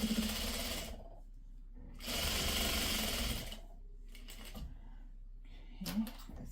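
Sewing machine stitching pre-cut quilt fabric for a scrappy sawtooth star quilt, running in two loud bursts of a second or more each with quieter gaps between, and a short final burst.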